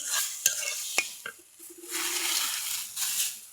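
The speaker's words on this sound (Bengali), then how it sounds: "দেখেন কতগুলো টমেটো কতটুকু হয়ে গেছে, আরও কিন্তু কমে যাবে, আরও ভাজা হবে এইটা।" Chopped tomatoes frying in oil in a pan, stirred with a few sharp utensil knocks against the pan at the start, then a steady soft sizzle close by.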